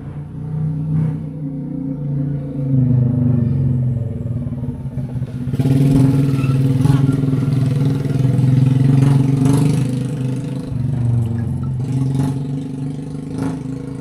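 A motorcycle engine rumbles steadily nearby, swelling louder midway as it passes, with a low idling drone and scattered clatter throughout.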